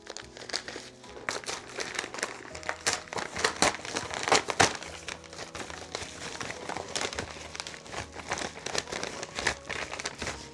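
Brown packing tape is peeled and torn off stacked manga volumes, giving close, continuous crinkling and ripping bursts with irregular louder tears.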